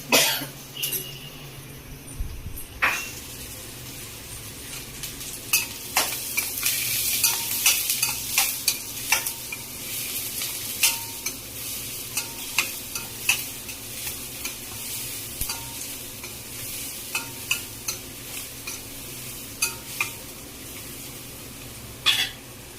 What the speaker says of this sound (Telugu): పసుపు కొంచెం స్మెల్ పోయే వరకు ఫ్రై చేసుకోవాలండి